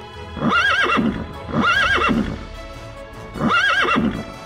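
In a Daniel Tiger's Neighborhood video game, three neighs repeat, each a high quavering whinny with rhythmic hoof clip-clops underneath, loud and close, like a cartoonish game sound effect.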